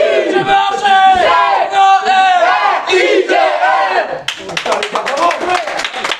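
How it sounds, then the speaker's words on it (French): A studio audience at a French charity quiz game show cheers, shouts and claps loudly for the winning team, dense and close, with voices calling out through the crowd noise. "On peut les applaudir."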